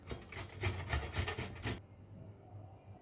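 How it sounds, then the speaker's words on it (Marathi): Raw turmeric root rubbed against the coarse side of a kitchen grater, a quick series of rasping strokes for under two seconds, then the scraping stops into quiet room tone. "अशा एक किसणीच्या जाड भागाने तुम्ही किसून घेऊ शकता"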